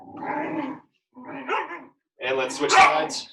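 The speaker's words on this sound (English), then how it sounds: "You have to excuse the dogs." Dogs bark and growl indoors in a home workout space, short yips and barks mixed in around a voice giving exercise instructions, fairly close.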